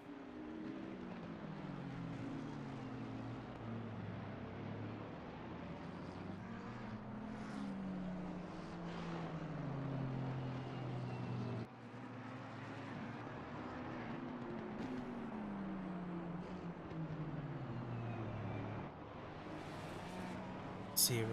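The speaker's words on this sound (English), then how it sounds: "Nando Zico is coming through now in the McLaren." A McLaren race car in Assetto Corsa Competizione, during a six-hour endurance race at the Nürburgring, drones past with a steady engine whine that rises and falls through gear changes, loud and continuous throughout.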